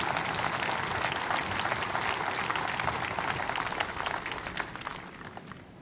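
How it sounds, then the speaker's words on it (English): An audience at a company all-hands meeting claps in sustained applause, dense and fairly loud, then gradually fades toward the end. "So I think that really deserves a round of applause."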